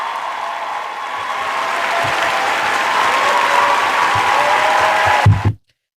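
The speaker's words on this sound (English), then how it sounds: "let me get a hand clap if you feel me" A church congregation bursts into sustained hand clapping during a sermon, dense and steady for about five seconds, then cuts off abruptly to silence.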